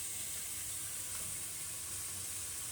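Ground beef hitting a greased hot pan, giving a steady, moderately faint broadband sizzle and hiss that continues evenly throughout without talk.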